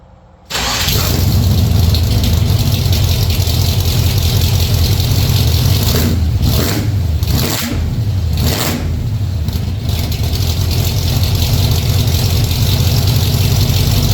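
A V8 with a very loud, obnoxious exhaust barks into life after a short quiet moment, then rumbles at a heavy, steady idle, with a few blips of revving around the middle, close and dominant throughout.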